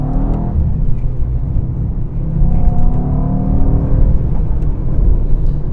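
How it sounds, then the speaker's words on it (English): A 2021 Mercedes-Benz E63 S engine rumbles loudly from inside the car, its pitch rising as it revs through the mid-range, with constant road noise beneath. "The motor sounds great during these"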